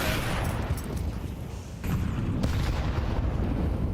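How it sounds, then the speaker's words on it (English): Grenade explosions in a Counter-Strike match, loud rumbling booms layered into a dense continuous roar with a fresh blast near the middle. "those nades have absolutely annihilated Mopos"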